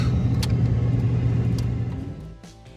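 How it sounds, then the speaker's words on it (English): A truck with an LS V8 engine straining uphill on a mountain road, a steady low rumble heard from inside, holding loud and then easing off toward the end. "we are pushing this LS motor as hard as it can go"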